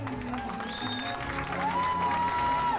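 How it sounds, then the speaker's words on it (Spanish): Guests at a quinceañera party break into steady applause, a dense crowd clapping under festive music with a sustained melodic line, while a voice talks over it. "Fuerte aplauso para recibirla, por favor."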